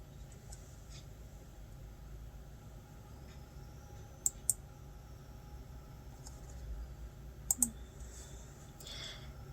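Computer mouse clicking near the desk, two quick pairs of sharp clicks spaced several seconds apart over a steady low hum, no talking.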